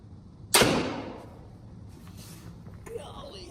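A sharp, loud crack as an aluminum bolt is fired from a Ballista BAT crossbow, with a ringing decay trailing off over about a second and a faint second knock near the end.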